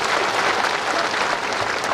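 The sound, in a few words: audience applause at a political rally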